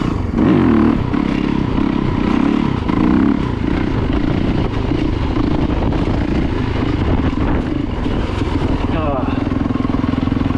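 Yamaha YZ450FX dirt bike revving hard in a wheelie, a loud, steady engine drone with surging throttle bursts early on, close and continuous throughout.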